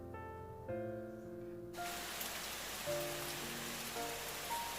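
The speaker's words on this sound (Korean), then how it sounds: "밖에는 여전히 계속 비가 내리고 있네요." Steady rain falls outside on a rainy day in rural Gangwon Province, Korea, a dense even hiss that takes over after faint tonal music fades, continuing alone without talk.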